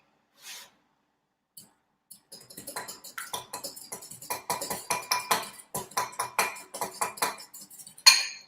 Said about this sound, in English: you're gonna just kind of whisk it together a little bit